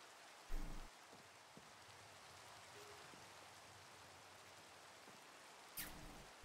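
Rain falling in the video game Minecraft, a quiet steady hiss throughout with a couple of soft low thumps near the start and end.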